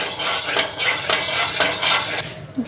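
Lentil dumplings (bori) frying in oil with nigella seeds, a soft sizzle broken by a few scraping stirs of a utensil against the pan, close and without talk.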